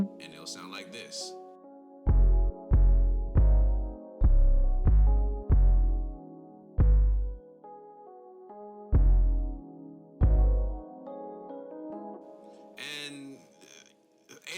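A deep 808 bass in a plugg beat, shifted down an octave, plays a sequence of about nine heavy sustained notes in a loose rhythm over a soft melodic layer, loud and alone.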